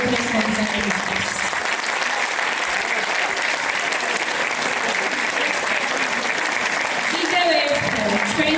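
A concert audience at a Georgian ensemble performance bursts into long, dense applause, loud and continuous throughout, with a voice briefly audible near the end.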